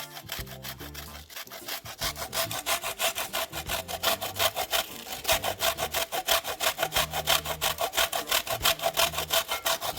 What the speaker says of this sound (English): So we're grating about half of the koko, and the whole point is so that there's no chunks.